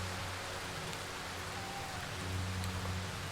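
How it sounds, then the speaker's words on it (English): Rain falling steadily in the video game Darkwood, a dense, even hiss of drops that holds at the same level throughout with a low hum underneath and no talking. "It's gonna be a rainy day."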